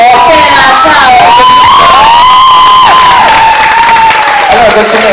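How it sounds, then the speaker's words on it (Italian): Crowd at a 2012 pop concert cheering and applauding loudly, with high shouts and whoops riding over dense clapping for several seconds. "Allora, facciamo un bel applauso."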